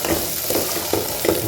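Cabbage and mixed vegetables sautéing in oil with rock salt for poriyal: a continuous close sizzle broken by several rhythmic stirring scrapes of a spatula against the pan.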